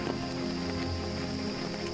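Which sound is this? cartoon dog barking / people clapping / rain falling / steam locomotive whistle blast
rain falling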